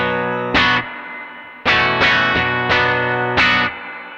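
Electric guitar played through a spring reverb echo effect, strummed chords ringing out in four loud bursts with splashy, lingering reverb tails between them; no talking.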